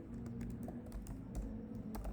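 Rapid keystrokes on a computer keyboard enter a terminal command, a steady patter of close clicks with no voice.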